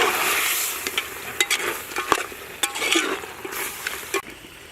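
A spoon scrapes and turns chicken gravy with added masala in a sizzling frying pan, giving irregular close scraping strokes over a steady hiss of frying.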